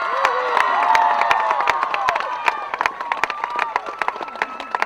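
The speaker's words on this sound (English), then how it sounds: "Big round of applause, please, on my behalf for Epsom Girls Grammar." Crowd at a secondary school rowing championship prize-giving applauds and cheers a girls' grammar school eight, steady clapping with shouts and whoops throughout, loud and close.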